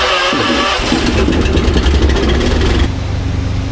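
Thunder Creek unit's air compressor starting up, its engine cranking then settling into a loud, close, pulsing mechanical chug that shifts to a steadier running drone partway through.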